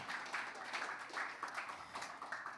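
A church congregation claps in praise to the Lord, producing a soft, steady patter of hands in loose rhythmic pulses that stays moderately distant and fairly quiet throughout.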